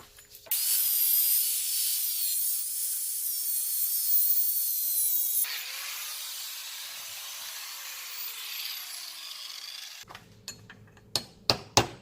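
Power tool cutting a groove into a steel wheel bearing race from a Toyota Echo hub, a loud continuous high-pitched grinding whine that shifts tone midway, then stops, followed by a few sharp metallic clanks.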